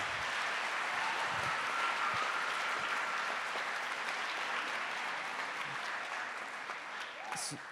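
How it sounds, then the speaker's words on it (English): Sustained audience applause fills a school middle and high school concert hall, thanking the lights and sound technician; dense, even clapping holds for several seconds before tapering slightly near the end. "Can we give Roger, Lights and Sound, a big round of applause?"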